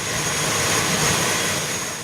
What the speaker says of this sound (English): a plane lands at the Sultan Ismail Petra Airport in Kota Baru